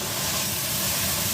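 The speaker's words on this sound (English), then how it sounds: "Listen to that sizzle. Yeah, it is sizzling." A steady, close hissing sizzle of steak frying in a hot pan, unbroken throughout.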